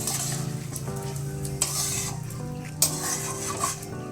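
Rice and lentils frying together in a hot pan for khichuri give a close, steady sizzle, broken by several sharp clinks of a spoon scraping and stirring against the pan.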